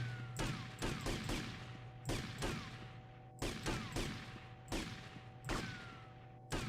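Gunfire in Grand Theft Auto: Vice City, a series of sharp game gunshots in quick bursts, about a dozen cracks in irregular pairs and clusters over a steady background hum.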